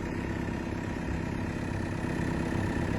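Excavator diesel engine idling at a construction site, a steady low rumbling drone that holds even for the whole stretch, moderately loud with no speech.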